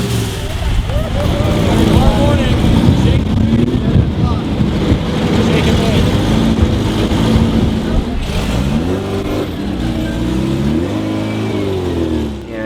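A vintage race car engine at La Carrera Panamericana, the Mexican road race, fires up and revs loudly and close, its pitch rising and falling through several throttle blips, with voices underneath.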